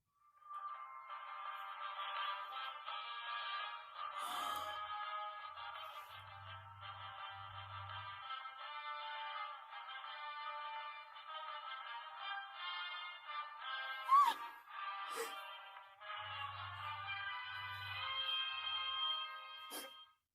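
Tinny electronic tones from a Baby Yoda toy's sound chip play a continuous warbling melody for about twenty seconds, with a few soft low thumps underneath.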